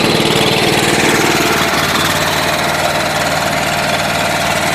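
A John Deere 210 lawn tractor engine idles after a fresh carburetor rebuild on a cold start, a loud, close, steady rumbling drone with a fast pulsing chug throughout.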